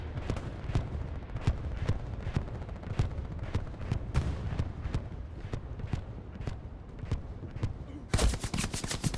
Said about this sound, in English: Whoa. Yeah, I'm taking fire.